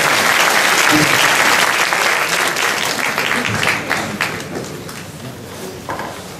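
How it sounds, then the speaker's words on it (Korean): A lecture audience bursts into loud applause, a dense clatter of many hands clapping close by that peaks early and gradually thins and fades over several seconds. "자, 여러분 다시 한번 우리 멋진 청년들에게 박수!"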